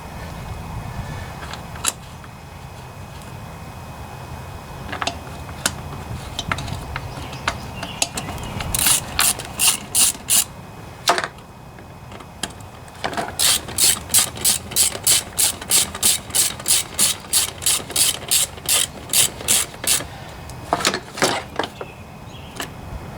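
A ratchet tightens the head gasket screws on a Toro lawn mower's Briggs & Stratton 7.25 163cc engine, giving close, rapid bursts of crisp clicking separated by short pauses and small metallic taps, with no voices.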